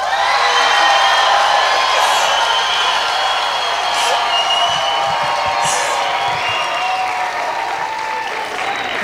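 Large homeshow crowd at an Acronaires 50th anniversary event bursts into loud sustained applause, cheering and whoops on a count of three, close and filling, with scattered shouts throughout.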